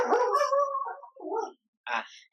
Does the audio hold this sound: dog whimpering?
yes